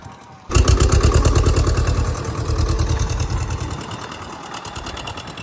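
A tractor engine with stuck hydraulics roars to life after a brief quiet moment, then runs loud and close with a steady, rapid pulsing chug that eases slightly toward the end.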